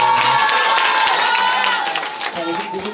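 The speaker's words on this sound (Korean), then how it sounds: "박수 한번" A young audience at a youth video-story camp claps and cheers loudly, with excited shouts and overlapping voices in a lively crowd; the noise eases slightly toward the end.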